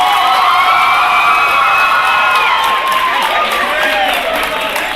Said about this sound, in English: Give yourself a real round of applause.